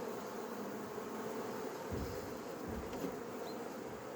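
Honeybees buzz steadily inside an Apimaye insulated hive, a dense close hum of many insects with occasional individual bees passing nearby.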